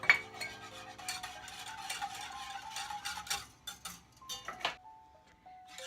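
Spoon stirring custard in a pot on the stove for a graham cracker pie, with quick irregular clinks and scrapes against the metal, close but faint, then a pause with a low hum.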